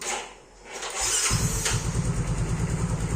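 A motorcycle with a fault where the speedometer light and idle speed control stay on after the ignition is switched off is started on its electric starter. A brief whirring crank catches into a steady, close, rumbling idle.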